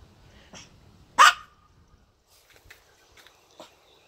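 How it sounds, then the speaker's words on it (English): A dog gives one sharp, fairly close bark, with a few faint yips and small noises around it in an otherwise quiet room. "And that's all Maggie does is bark"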